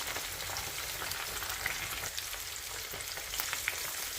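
Sea bass fillets frying in hot oil in a pan, a steady close sizzle with soft crackles and no talking.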